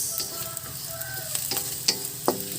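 Sardines sizzle and fry in a pan, with intermittent scraping and clinking as they are stirred. The sound is close and moderately loud, with no talking.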